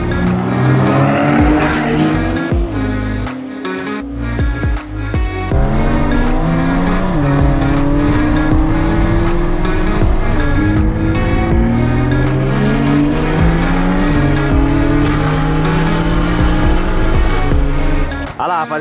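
A Toyota Supra and a Porsche 911 roar through a rolling-start street drag race, their loud engines climbing through gears in repeated rising sweeps. A voice talks over the continuous racing noise.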